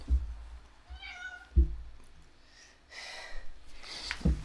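A cat gives a few soft, faint meows with snorting breaths in a quiet room, interrupted by low thumps from nearby handling.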